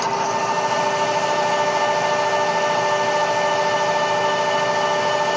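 A steady whining mag drill with a dull bit grinds continuously through metal, close and loud, with a constant motor hum and no pauses.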